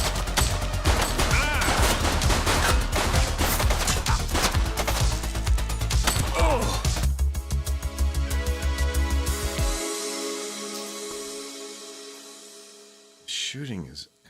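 Gunfire in The Precinct, a police game: rapid bursts of shots stack densely for about seven seconds, then fade into a thinning tail of echoes and quieter noise, ending with a short loud burst.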